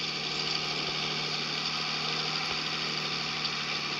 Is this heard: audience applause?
no